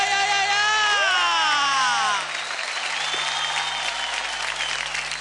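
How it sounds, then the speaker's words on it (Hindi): Loud applause and cheering from a studio audience at a children's dance competition elimination show, layered under a musical tone with gliding pitches that fades halfway, after which the crowd noise continues steadily. "आई विश एक बार जोरदार तालियां हो जाए अमृता के लिए"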